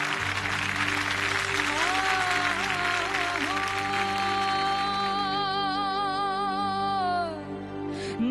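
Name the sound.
studio audience applause for a singer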